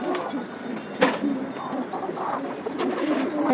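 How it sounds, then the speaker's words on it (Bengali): Pigeons in a cage coo softly in low, murmuring calls at close range, steady and layered, with a few sharper sounds of movement mixed in. "এই খাঁচায় একটা কবুতর বাচ্চা দেয় না"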